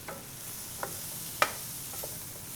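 Salt and white pepper are stirred into a vegan flour gravy in a pan, a soft low sizzle broken by a few light spoon scrapes and one sharper clink.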